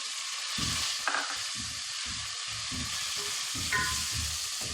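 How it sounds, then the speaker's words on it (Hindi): Tomatoes go into a pan of frying ginger and garlic, giving a bright, close sizzle with bursts of stirring and scraping. It continues steadily for several seconds. "अदरक लहसुन फ्राई हो चुका है। अब हम इसमें टमाटर डालते हैं।"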